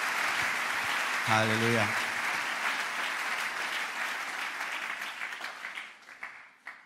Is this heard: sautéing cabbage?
no